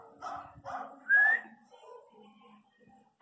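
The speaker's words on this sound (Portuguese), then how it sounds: "Vê se está latindo aí" Miniature pinscher dogs give a few short, close barks and yips at home, along with a brief whistle-like whine, and quiet moments fall between the sounds.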